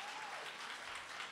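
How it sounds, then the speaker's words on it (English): Audience applause at a live music performance, a dense, steady wash of clapping holding at an even level throughout without voices. "Just a round of applause for them."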